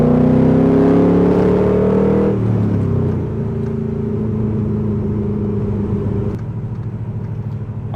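A 1973 Chevrolet Corvette restomod swapped to an LS1 engine drives past up close, its exhaust loud and droning as it revs up, shifts and settles into a steady cruise.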